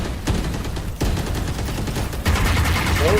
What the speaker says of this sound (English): Both players are spamming through this smoke